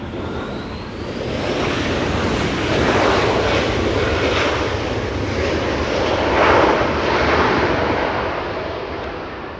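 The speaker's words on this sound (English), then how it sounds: "We do have a little E175 making an arrival here north." An Embraer E175 arrives at Los Angeles International Airport. Its jet roar is sustained, broad and loud, swelling gently and holding steady for the whole stretch with no voices over it.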